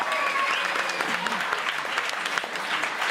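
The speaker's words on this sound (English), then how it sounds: "Let's give a big round of applause for Josh." Dense, steady applause from an audience at a live Monday musical show, filling the whole moment evenly with a faint voice or two underneath.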